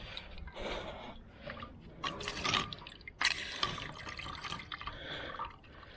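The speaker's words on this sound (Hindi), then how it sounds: "हाथ धो लिए।" Water splashes and trickles as hands are washed at a hillside temple near Mussoorie, in irregular close bursts of pouring and dripping with short pauses between.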